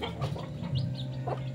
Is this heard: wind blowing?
no